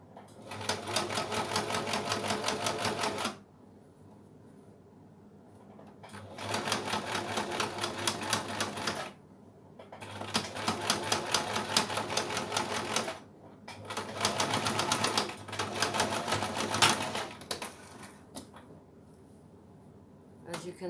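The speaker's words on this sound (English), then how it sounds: "So we sew right smack on the fold of the binding." A sewing machine stitches binding along the fold on a padded cosmetic bag, running in steady rapid bursts of about three seconds with short pauses between runs, close and clear.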